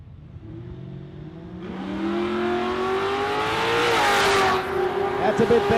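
A Toyota Supra launches at Warwick Dragway in a drag racing event. The engine climbs hard from a low idle to a loud rising roar that peaks, then gives way to crackling, and a commentator talks over it.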